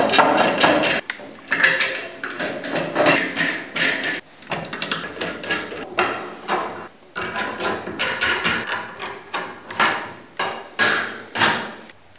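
Feet being fitted onto a freestanding clawfoot bathtub, heard as a steady run of sharp, close metallic knocks and clanks in irregular bursts, with no talking.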